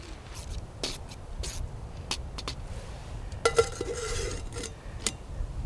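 Tea simmering in a pot over a fire during cold-weather survival training is stirred with metal, giving scattered clinks and scrapes against the pot and a few sharper knocks over a low, soft hiss.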